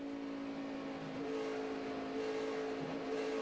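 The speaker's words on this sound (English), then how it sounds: "you can hear him just having to pedal that throttle." A NASCAR Nationwide Series race car engine drones steadily during the 2012 EcoBoost 300, with faint swells as the driver pedals the throttle amid trackside noise, moderately distant.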